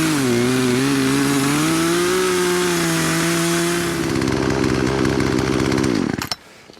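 A broken chainsaw engine runs loud and close with a buzzing two-stroke drone. Its pitch wavers, then it sputters and cuts out near the end.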